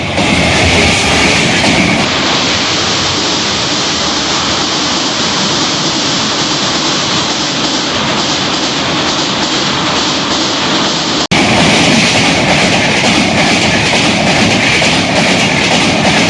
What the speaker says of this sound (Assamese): ট্ৰেইনখন এইফালেদি আহিব আৰু এইফালে কৰি গুৱাহাটী যাবগৈ